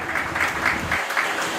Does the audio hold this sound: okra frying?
no